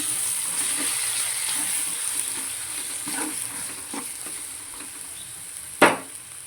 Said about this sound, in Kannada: ಕೊತ್ತಂಬರಿ ಹಾಕಿ ಚೆನ್ನಾಗಿ ಮಿಕ್ಸ್ತೀವಿ